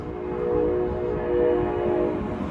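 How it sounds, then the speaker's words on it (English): A train passing near the former lake bed on the north end of Portland, Oregon, a steady low rumble with sustained horn tones rising and falling, loud and close throughout. "stupid train"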